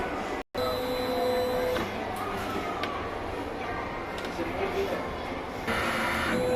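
A DTF printer runs a print head cleaning cycle, giving a steady mechanical whir and pump hum with faint clicks and tonal whines, close by, after a brief cut at the start.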